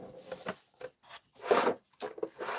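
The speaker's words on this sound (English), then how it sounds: "we're going to go ahead and burnish this" Burnishing cardstock for a handmade Christmas card: a series of short dry scraping rubs, some quick and light, one longer and firmer stroke in the middle, close and fairly quiet with no talking.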